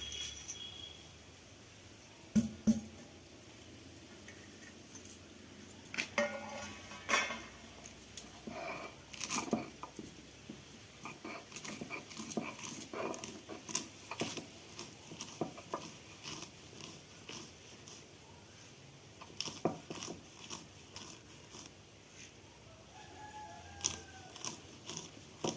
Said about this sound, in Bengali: এর বাদাম কটা আমি গুঁড়িয়ে নেব।